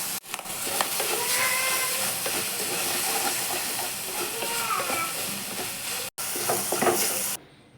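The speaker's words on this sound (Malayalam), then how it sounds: "ഇനി അത് തേങ്ങ ഒന്ന് മൂട്ടിട്ട് ഇതിലേക്ക് ഇട്ടിട്ട് ഒന്ന് ഇളക്കി കൊടുക്കുക" Grated coconut being stirred into cooked clams in a hot pan, a continuous loud hiss and sizzle with scraping stirs close up, briefly cut near the end.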